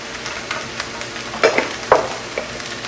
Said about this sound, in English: we're going to add the cumin seeds into this tempering